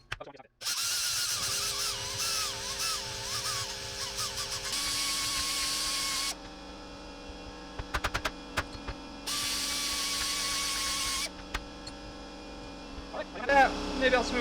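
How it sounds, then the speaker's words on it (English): A die grinder whines steadily at high pitch while working on a Jeep differential gear during regearing, running in two long bursts separated by short clicks and pauses, close and fairly quiet. "Let's get in here with the die grinder a little bit."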